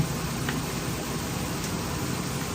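A steady, dense sizzle of aromatics frying in a hot pot, close and continuous with no talking.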